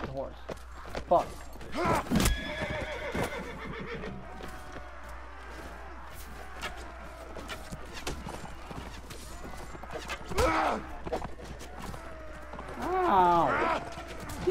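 Horses in the medieval battle game Mount & Blade: Warband, with hoofbeats and clip-clop during combat, a neigh or two, and someone talking over the noise.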